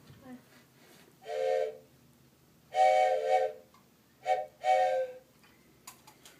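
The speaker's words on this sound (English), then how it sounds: "this is a train whistle" A small handheld train whistle is blown indoors in a few short, chord-like hoots, separated by quiet gaps, fairly loud and close.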